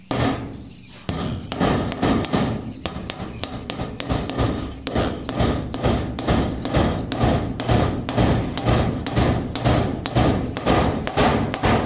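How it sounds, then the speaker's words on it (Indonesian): Hammer blows drive nails into spandek metal roofing, a loud, close series of sharp metallic thuds falling in a steady, fairly quick rhythm almost without pause. "Jadi kita lihat ya proses memaku ya."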